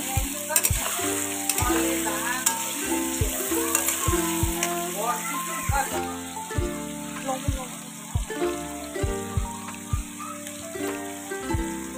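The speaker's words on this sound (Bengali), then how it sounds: "হালকা করে ভেজে নেব।" Katla fish frying lightly in a pan gives a steady close sizzle with crackling spatter and periodic clinks of a utensil stirring.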